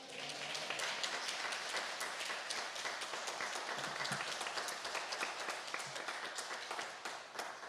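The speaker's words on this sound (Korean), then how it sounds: "이 시간 나오실 때 우리 할렐루야 하시면서 박수로 환영하는 시간 되었으면 합니다" Korean church congregation at a Sunday service applauding to welcome a missionary, a continuous, even patter of many hands heard at a distance, fairly quiet, with no talk over it.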